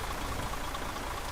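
Steady, soft hiss of falling rain in the video game Euro Truck Simulator 2, an even patter with no breaks or voices.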